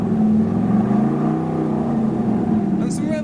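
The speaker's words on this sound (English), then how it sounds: "And some revolutions for you guys. A homage to the Bugatti EB110 Supersport there." A Bugatti EB110 Supersport hypercar engine revving, a loud close rising and falling roar held for several seconds before easing off.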